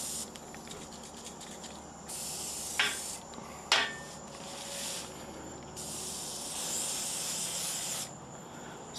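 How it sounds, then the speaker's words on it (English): Permatex rust treatment sprayed onto metal in long hissing aerosol bursts, two sustained sprays separated by a couple of short sharp clicks or taps, close and fairly loud with no talking. "just basically sprayed it down"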